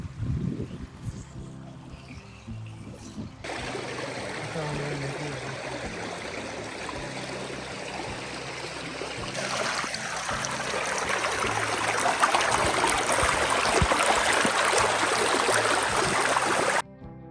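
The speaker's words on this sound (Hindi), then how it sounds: "इसकी बहने की आवाज़ और परिंदों की चहचहाने की आवाज़ दोनों घुल मिल के एक गीत सा पेश कर रही हैं" Water flows and trickles steadily, like a nearby stream in a valley, with a broad rushing wash that swells a little louder toward the end. No one speaks.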